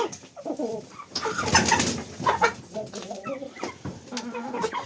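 A flock of chickens, including a large white rooster, clucks and murmurs while eating grain and fat on the ground, with close, irregular bursts of clucking and pecking alongside some voice.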